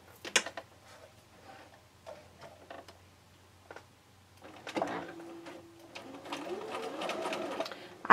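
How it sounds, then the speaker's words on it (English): A sewing machine stitches a quarter-inch seam around a fabric quilt square, quiet stop-start bursts of needle ticking building to a steadier run near the end, close by at low level. "all I'm going to do is sew a 1/4-inch seam around the entire square."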